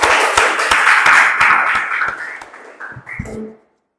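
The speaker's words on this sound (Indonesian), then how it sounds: "Kelompok 1 dan kelompok 3 silakan kasih aplaus untuk kelompok" Classmates in a school class session clap for a discussion group, a dense burst of close, brisk handclaps that thins into a few scattered claps before stopping abruptly.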